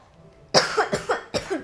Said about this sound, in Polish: Mam kaszel.